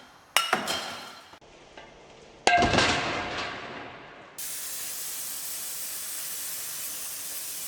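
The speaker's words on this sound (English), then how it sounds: "We're going through quite a bit of brake clean." Brake cleaner sprayed onto car parts during work on an LS Miata kart: sharp clinks and short bursts of spray, then a long, steady, close hiss that runs to the end.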